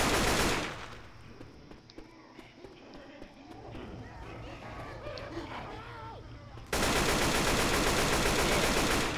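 Gunfire in the zombie shooter game Left 4 Dead 2 comes as a mid-level run of irregular shots under game noise and a talking player, ending in a louder dense burst of noise.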